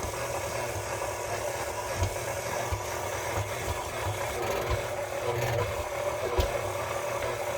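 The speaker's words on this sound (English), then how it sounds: "So right now I'm using my KitchenAid and I have here a dough hook accessory so it will form a dough." A KitchenAid stand mixer works bread dough with its dough hook, giving a continuous rubbing motor drone with occasional soft thumps throughout, close and unaccompanied by speech.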